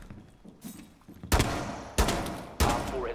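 Video game gunfire from an Ash rush in a bomb round: after faint shots, three loud sharp bursts ring out about half a second apart, each trailing off in echo.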